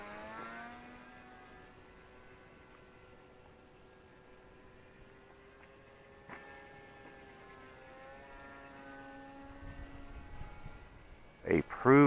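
A Volantex Ranger G2 RC plane with a 1200mm wingspan banks through aerobatic turns, its propeller whine sliding up and down in pitch as the throttle shifts, fairly faint and distant, with a louder rustle near the end.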